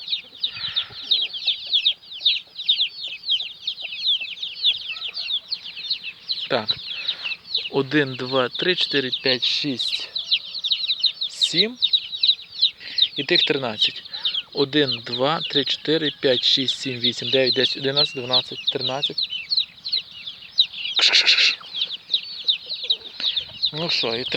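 Chickens cluck and roosters call in a busy farmyard, with people talking loudly over the flock throughout.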